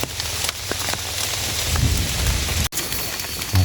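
Steady rain falling outdoors, a loud, dense patter and hiss with heavier drops and low rumbling, interrupted by a brief cut, with no talk.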